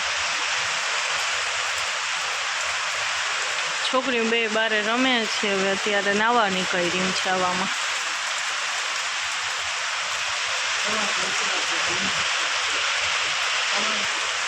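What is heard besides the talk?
rain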